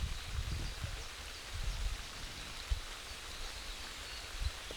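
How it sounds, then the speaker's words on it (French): Steady rain falling outdoors during a nature reading, a soft continuous patter with occasional low thumps, heard alone with no voices. "Tiens, il pleut."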